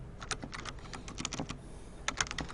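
Rapid typing on a computer keyboard, with quick bursts of close, crisp key clicks, a short pause, then more keystrokes, with no talk.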